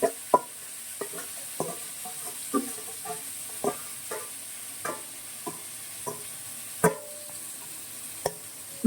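Marinated meat cooking in a pan, a steady sizzle under regular knocks and scrapes of a spoon stirring against the metal, close and clear with no talk.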